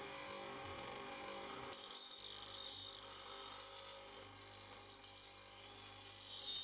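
A lawn mower blade being sharpened by hand, a steady abrasive rasping of file or stone on metal that runs continuously and fairly close, with a shift in tone early on and no voices.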